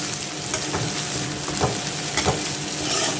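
Onions and green chillies sauté in a pan for prawn thokku, with a loud, continuous sizzle close by and a few soft stirring scrapes. No one speaks.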